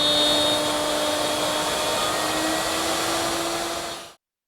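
A router guided by a fence cuts a mortise in a wooden rail for a corner chair, giving a loud, steady high whine that holds evenly for about four seconds before stopping abruptly.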